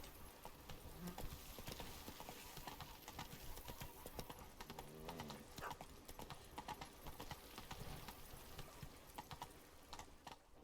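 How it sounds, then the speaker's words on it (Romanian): Horse hooves clip-clop steadily at a gallop in The Witcher 3 video game, a continuous quiet rhythmic patter that runs alone throughout with no talk over it. "Am chemat și eu calul."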